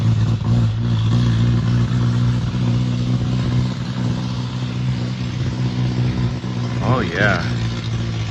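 A Vauxhall Victor car's engine idles with a low, steady rumble close by, partly under a voice, with a brief squeal near the end.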